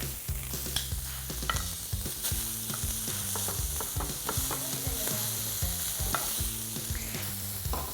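Steaks, sirloin or fillet, fry in a hot pan with a steady loud sizzle, broken by frequent scraping and stirring clatters against the metal.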